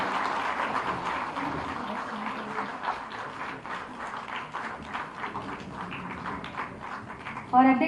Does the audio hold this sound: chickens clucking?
no